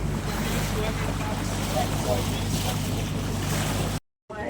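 A boat's engine drones steadily under rushing wind and sea noise off Labadee, Haiti, loud and close, then cuts out abruptly near the end.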